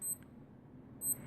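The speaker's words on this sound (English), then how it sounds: "That was the timer going off." A Casio Protrek 2500 watch timer beeping, two short high-pitched electronic beep bursts about a second apart, faint and close, with near-silence between them.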